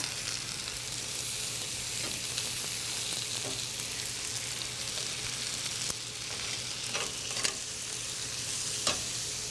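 Bone-in teriyaki chicken pieces sizzle on a grill over lower heat, a steady close crackling hiss with a few sharper pops scattered through.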